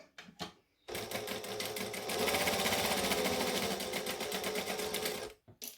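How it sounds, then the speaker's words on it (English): Sewing machine chain stitching a straight line on shorts, a brief start and stop, then a fast steady mechanical whirring of stitches running for several seconds before it halts. "I'm going to chain stitch the next one"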